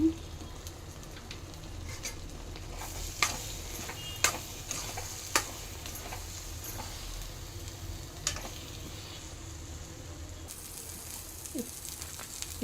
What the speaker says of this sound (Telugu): ఒక రెండు నిమిషాలు వేయించండి